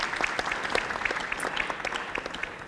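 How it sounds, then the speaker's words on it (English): A conference audience claps warmly to welcome a panel of ministers at a session of the Ukraine Recovery Conference 2024, giving sustained, even applause with crisp individual claps throughout. "Oksana Zholnovich, a warm applause for our panelists."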